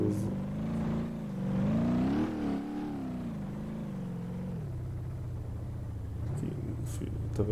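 In BeamNG.drive, a 1972 Gavril Bandit's engine accelerates hard in a rising, wavering roar, drops back to a steady lower drone, then gives a brief final rev.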